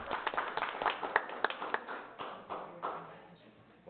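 Scattered audience clapping at a city council meeting, a brief burst of uneven, fairly close claps that thins out and fades over a few seconds.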